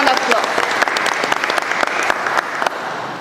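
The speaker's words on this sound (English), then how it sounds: "So let's give him a big round of applause." An audience gives a round of applause at a departure briefing for Antiguan students heading to study in China, with loud, dense clapping and a few sharp claps standing out, close and continuous.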